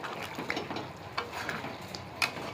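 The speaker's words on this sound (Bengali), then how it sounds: "গরম মশলা দিয়ে নাড়িয়ে নেব, একটু নাড়িয়ে নিয়ে নামিয়ে দেবো।" A spoon stirs chicken curry with garam masala in a sizzling pan, making soft scraping swishes in an uneven rhythm over a constant close frying hiss. One sharper clink stands out near the end, with no voices.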